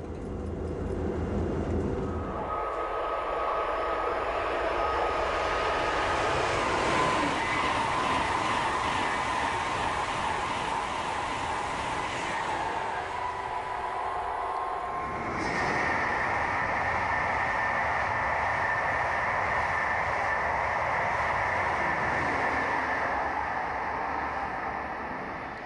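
An ICE1 high-speed train on the new line toward Hannover runs at speed toward the Escherberg tunnel, a steady loud rolling roar with rail rumble that shifts in tone midway and again near the end, with no talk.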